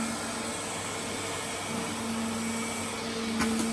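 An old sage green Hoover vacuum cleaner runs with a constant loud motor whine and airy rush, a steady tone holding throughout and rising slightly near the end.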